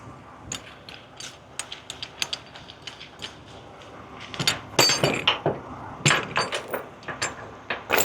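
A ratchet load binder on a trailer chain, freshly oiled, clicks and clanks in uneven bursts of close metallic ratcheting that grow louder and denser as it is worked.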